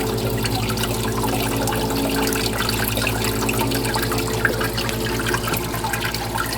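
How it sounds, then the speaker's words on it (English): Water pours out to drive a wheel that once powered tools at a Santa's Workshop attraction: a steady, loud rush and splash with a continuous low mechanical hum underneath, and no talk. "As you can see, the water's coming out now,"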